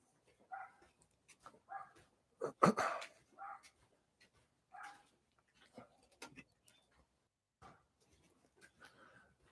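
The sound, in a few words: yapping dog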